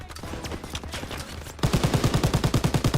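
A mounted machine gun turret fires in a Call of Duty WW2 battle, starting with distant gunfire and then breaking into a loud, close, rapid burst of evenly spaced shots.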